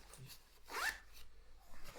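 A single quick zip of a laminated Gore-Tex Rev'it Poseidon 2 jacket zipper being pulled open, close and fairly quiet, in an otherwise still room.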